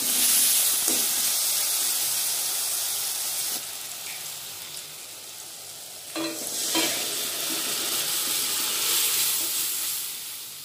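Chana dal hits hot oil in a pan and sizzles loudly with stirring scrapes. The hiss eases briefly, then surges again partway through, close up with no voices.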